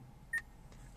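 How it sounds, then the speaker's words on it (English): A short electronic prompt beep from the voice-command navigation system of a 2013 Honda Accord, one clean tone about a twentieth of a second long, heard alone inside a quiet cabin. "After the beep, say the street name."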